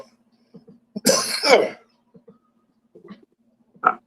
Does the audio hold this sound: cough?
yes